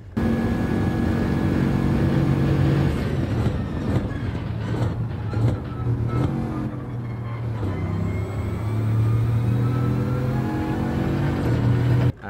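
A race car in Gran Turismo 7 at Daytona is pushed hard in third gear, its engine a loud, steady droning roar that climbs gradually and holds for several seconds, with no talking over it.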